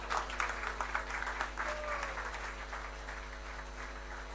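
An audience applauds at a museum grand opening, a short burst of clapping that is strongest at first and then fades into a softer patter over steady low hum.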